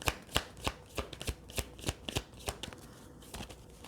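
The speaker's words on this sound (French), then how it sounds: "je vais tirer en fait une carte de petit, non, des anges de l'amour, de Dorine Virtue." Angel oracle cards from an angels-of-love deck are shuffled by hand for a tarot reading, giving a steady series of crisp riffling slaps about every third of a second, close and clear, with no talking.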